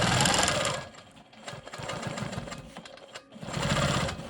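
A Quilt Maker Pro 20 quilting machine stitches straight lines across a rainbow quilt block, a rapid mechanical needle chatter that surges loud, dips briefly in the middle, then speeds up again, with no voices.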